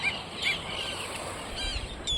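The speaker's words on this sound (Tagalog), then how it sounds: "Tapos ang dami niyang ibon" A large flock of birds on a rock in the open sea off Palawan gives faint, scattered calls over a steady wash of wind and sea noise.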